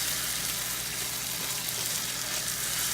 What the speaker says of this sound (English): once your veggies have been frying for about 4 to 5 minutes